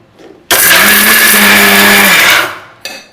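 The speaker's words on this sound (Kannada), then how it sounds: "ಈಗ ಡ್ರೈ ಇಲ್ವಾ ಸ್ವಲ್ಪ ಮಿಕ್ಸಿಗೆ ಹಾಕಿ ತರ್ತರಿಯಾಗ ನುಣ್ಣಗ" A mixer grinder whirs loudly and close for about two seconds, grinding dry drumstick leaf masala powder, starting abruptly and then winding down, with a faint voice before it starts.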